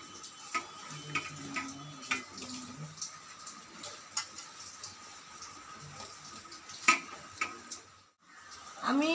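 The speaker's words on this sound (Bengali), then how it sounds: "এবারে মেখে নেব একটু জল দিয়ে ভালো করে।" Onion pakora batter of sliced onion, salt, turmeric, besan and water is mixed by hand, giving soft, close, repeated wet clicks and squelches at an irregular rhythm, quiet and without talk.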